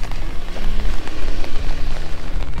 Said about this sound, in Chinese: 可今天刚好下雨